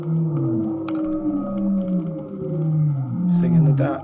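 Deep, drawn-out humpback whale calls moan and slide in pitch underwater at midnight, recorded from the ocean floor, long eerie tones overlapping over a low rumbling background, with a brief higher whistle near the end.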